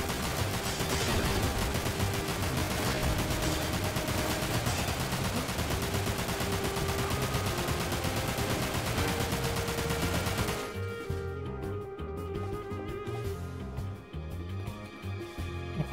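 Sustained gunfire in Dirge of Cerberus, a dense, steady barrage of shots lasting about ten seconds before dropping away to a quieter game backdrop, with no voices.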